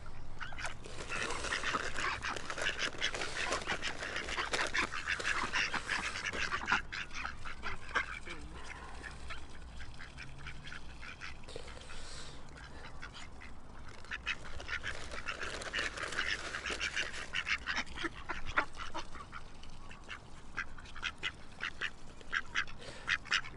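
Ducks call repeatedly outdoors near someone feeding them, with honking quacks that come in bursts over a steady background of outdoor noise. A few faint voices sit under the calls.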